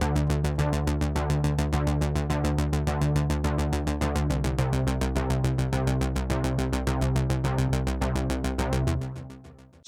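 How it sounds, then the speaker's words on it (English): Synthwave track built from stacked synth layers over an 808 style sub bass, with a steady rapid pulsing rhythm and a deep low end that shifts pitch midway, loud and continuous before fading out near the end. "This is just an 808 style sub, just to bring in some of that real low end"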